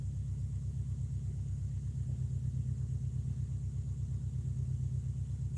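A vehicle engine idles at a steady, near-constant RPM around a thousand, giving a low, even rumble that stays continuous and moderately quiet throughout, with no talking.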